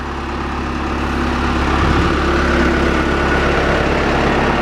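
Backhoe diesel engine running steadily, a deep continuous idling rumble that builds slightly as the tire is turned slowly under power, heard alone at close range.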